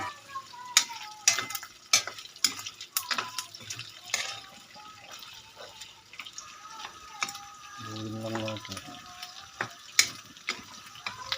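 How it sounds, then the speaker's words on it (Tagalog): Pork adobo meat frying in its own rendered fat while being stirred: intermittent sizzle with sharp scraping and clacking of a spoon against the pan, a short tonal hum midway, close and moderately loud. "nagmantika na yung karne. So, haluin lang natin"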